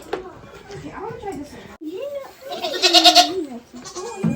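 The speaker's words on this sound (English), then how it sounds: "This is Spunky, which is her goat" A young goat on a farm where baby goats are being bottle fed bleats close by in several wavering cries, with people speaking around it.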